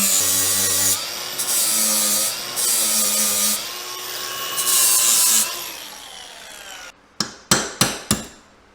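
Metal parts being ground off a golf cart, a loud steady whine and rasp in long bursts with short pauses, followed near the end by several sharp metallic knocks.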